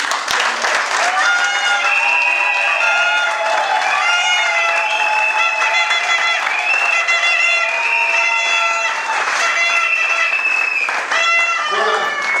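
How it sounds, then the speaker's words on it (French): A congregation at a Tenrikyo church's tenth anniversary celebration in the DR Congo applauds loudly and continuously, with raised voices, cheering and sustained vocal calls over the clapping throughout. "que je vous demande d'applaudir tous."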